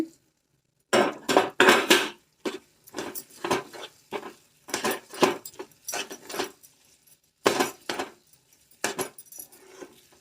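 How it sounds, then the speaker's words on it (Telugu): A spoon stirs halwa with fried cashews and raisins in a metal pan, giving a series of sharp scraping and clinking strokes in irregular bursts with short silent gaps between them, close and fairly loud. "ముందుగా వేయించి పెట్టుకున్న జీడిపప్పు కిస్మిస్లు వేసుకొని బాగా కలుపుకోవాలి"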